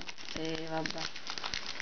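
A Pokémon card booster pack from the EX Crystal Guardians set being opened, its foil wrapper crinkling and crackling in a brief close burst, with a voice speaking alongside.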